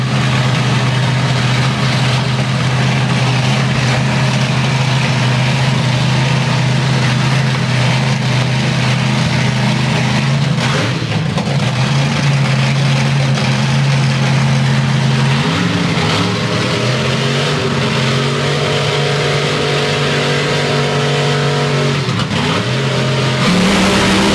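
Top Methanol drag racing cars at Santa Pod Raceway during qualifying, loud engines idling with a deep steady drone, then rising and falling in several revving bursts, close and dominant throughout with no voices.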